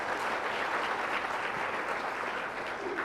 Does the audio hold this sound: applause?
yes